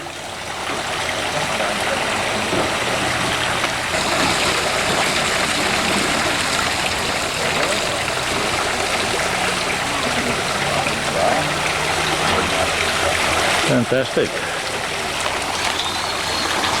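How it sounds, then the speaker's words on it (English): Water from a perpetual motion fountain pours steadily through a series of pipes, filling one after another, a continuous bright splashing trickle for the whole stretch, with a brief spoken exclamation near the end. "Perpetual motion with water going down through pipes?"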